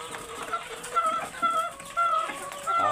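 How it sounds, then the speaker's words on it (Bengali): Hill (pahari) chickens on a farm give faint, short clucks and calls, repeating at intervals under someone talking nearby. "এই মুরগিটা হচ্ছে পাহাড়ি"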